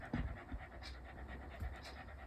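A dog panting in a warm room, a few quick, breathy huffs close by, soft and fairly quiet, with brief pauses between bursts and no talking.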